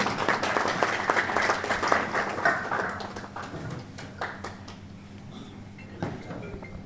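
Audience applause welcoming Dr. Ashwini Shandilya at a literary book-review gathering, dense clapping for about three seconds before thinning into scattered claps and fading out.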